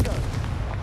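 The Confringo fire spell cast in the video game Hogwarts Legacy, a short sharp blast with a fiery burst and low boom, close and loud, lasting under a second.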